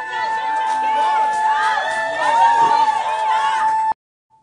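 Crowd noise at a public hearing, a loud, sustained mass of jeering voices and shouts that swells and then cuts off abruptly, with a steady tone running underneath.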